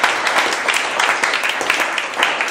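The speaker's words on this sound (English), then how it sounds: "So I would like to give you all a round of applause." Audience giving a round of applause at a voter information gathering, dense, steady clapping from a sizeable crowd, loud and close.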